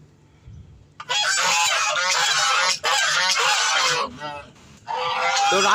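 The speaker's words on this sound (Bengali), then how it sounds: "তো রাজহাঁসগুলো দেখো ভিউয়ার্স," Geese honk loudly and close by in long, harsh, overlapping calls that pause briefly and then start again, with a voice talking faintly underneath.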